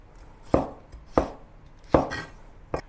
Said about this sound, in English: I'm going to slice this into thin pieces